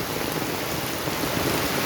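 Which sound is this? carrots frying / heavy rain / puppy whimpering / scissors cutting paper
heavy rain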